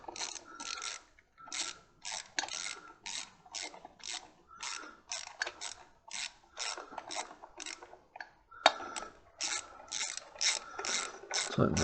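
A ratchet tightening a fitting while bleeding the clutch on a Suzuki Intruder motorcycle, rapid clicking pawl strokes in repeated bursts, close and fairly quiet with no talk.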